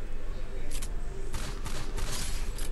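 Bursts of gunfire from the Free Fire Clash Squad video game, several rapid volleys crackling over a constant background hum, with a voice talking faintly underneath.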